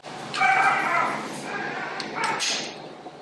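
Puppies at an animal rescue bark, yip and whimper at bedtime, several close, high-pitched cries in uneven bursts, with faint voices in the background.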